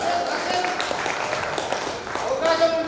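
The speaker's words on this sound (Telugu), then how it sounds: "give big claps to Nagaprasad" Applause and clapping at a 1979-batch school reunion gathering, honoring Nagaprasad, with a continuous dense wash of hands lasting a few seconds, mixed with crowd voices.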